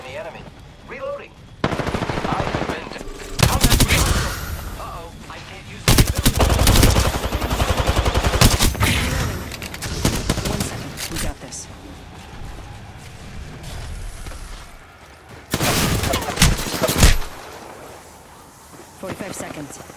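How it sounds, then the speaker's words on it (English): Automatic weapon fire in the shooter game Apex Legends comes in loud bursts of rapid shots separated by quieter gaps, with game voice lines and talking between volleys. "Opening fire on the enemy."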